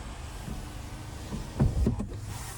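The tilt-and-sliding sunroof motor of a GMC Canyon AT4 hums softly inside the cabin, with a brief louder whir and clunk near the end as the panel slides back.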